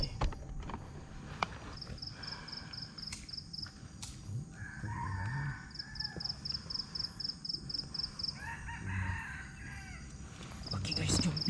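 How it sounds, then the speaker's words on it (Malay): A rooster crows at night, the repeated calls faint and distant against steady outdoor background noise, with some rustling and movement close by. "Ayam pun dah berkokok lah."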